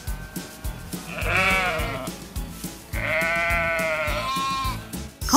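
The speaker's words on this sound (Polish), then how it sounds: "Obok nich odpoczywają owce." Sheep resting on a farm give two long, wavering bleats, one shorter and one more drawn out, both close and clear over a faint, low background rumble.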